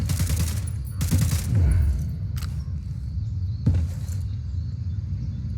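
Gunfire in the video game Ghost Recon Wildlands: two loud bursts of rapid fire close together near the start, then two sharper single shots spaced apart, over a steady low rumble.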